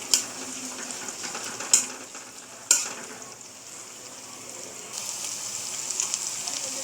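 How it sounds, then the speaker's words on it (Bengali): Ginger, garlic and chopped onion fry in a pan with a steady hiss, stirred with a few sharp clinks and scrapes from a utensil, close and with no talking. "এগুলোকে আমি একটু নেড়ে ছেড়ে নিব, যাতে আদা আর রসুনের যে কাঁচা ফ্লেভারটা আছে সেটা চলে যায়"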